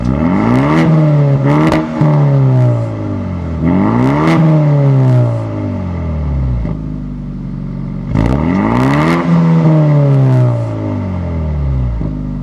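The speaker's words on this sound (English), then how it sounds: "What's cool about this performance exhaust system is not only do you get the quad tips" Loud engine revs climbing and dropping repeatedly on a 2024 Ford Mustang GT V8 with a quad-tip performance exhaust, a deep throaty roar through three or four sharp blips with rumbling idle between.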